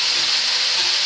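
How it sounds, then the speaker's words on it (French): Lardons frying in a pan for a crustless quiche, giving a loud, close, steady sizzling hiss with no pauses or voices. "J'en ai encore pour 2 minutes hein, pour la cuisson des lardons parce que il faut le temps"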